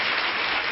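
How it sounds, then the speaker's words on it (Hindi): Audience applause from a crowd gathered for a spiritual talk, a dense wash of many hands clapping at once, steady and fairly loud throughout the brief moment. "इनके लिए साधुवाद दीजिए ताली बजाकर"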